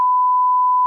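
Censor beep sound effect, a single pure steady tone held for just under a second, loud and alone.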